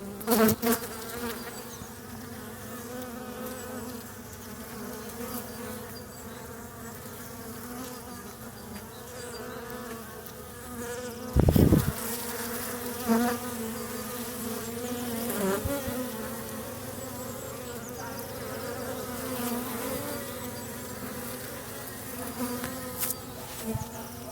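A dense, continuous hum of many honeybees buzzing close by at an opened hive, steady throughout, with occasional knocks and handling noises.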